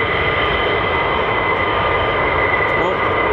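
Fighter jet landing with aerodynamic braking at RAF Lakenheath, a steady, loud engine roar and rushing whine holding throughout.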